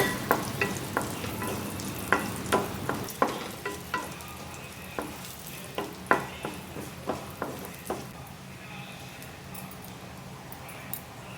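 Cashews and dry coconut pieces frying in oil while being stirred, with repeated scraping clicks of a spoon against the pan over a steady low sizzle, close and clear with no talking.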